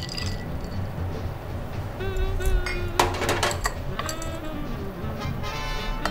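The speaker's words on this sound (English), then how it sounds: "And we always stir the Manhattan so that it stays this pretty color." Ice stirred in a glass while mixing a Manhattan cocktail, light repeated clinks and rattles of cubes against the glass, close and fairly steady over a faint background hum.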